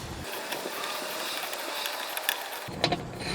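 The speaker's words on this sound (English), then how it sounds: "now we should be able to simply undo that little spindle nut" Wrench work undoing the spindle nut on an M1028 CUCV pickup during a parking brake cable job, with close metallic ratcheting clicks over a steady background hum and a sharper clank near the end.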